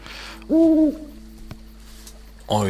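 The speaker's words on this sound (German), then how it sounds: "Eule." Owl hooting in the puzzle video game Rusty Lake Paradise: one loud, clear tonal hoot lasting under half a second, followed by a quiet gap and the onset of another call at the end, over a faint steady game hum.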